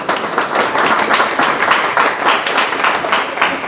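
An audience at an entrepreneurship and innovation forum in Guarda applauds loudly and steadily, a dense wash of many hands clapping at once with no break.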